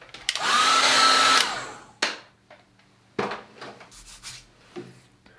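A hair dryer blows on a wet watercolour painting, a loud steady whir for about a second, then switches off, followed by several knocks and rustles of handling on a table.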